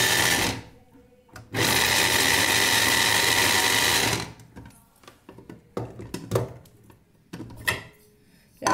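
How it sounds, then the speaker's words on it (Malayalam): Vegetable slicer cutting vegetables, a brief whir followed by a loud, sustained mechanical whirring of about three seconds, then scattered clicks and clattering knocks at closer range. "നമുക്ക് വേണ്ടത് അത്രയ്ക്കും ചെറുതായിട്ട് നമ്മൾ കട്ട് ചെയ്തെടുക്കാം."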